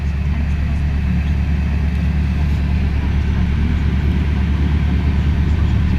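Old BMW car engine idling while frozen over, a steady low rumbling drone with a throbbing bass pulse, loud and close, unchanging throughout with no voices.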